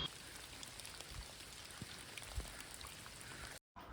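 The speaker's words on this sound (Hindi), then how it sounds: "हल्की हल्की बारिश में हम लोग निकल चुके हैं" Light rain patters steadily during a mountain trek on the Shrikhand Mahadev yatra, a continuous soft wash of drops with a few nearer splashes, then a brief cut.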